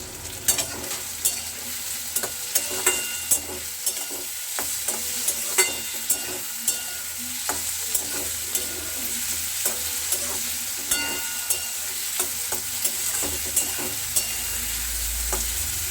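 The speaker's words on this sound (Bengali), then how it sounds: "এটা খুব ভালো করে নাড়িয়ে নেব।" Egg tarka stirred in a frying pan, a continuous close sizzle punctuated by regular sharp scrapes and taps of the spatula against the pan, roughly one every second, with no talking.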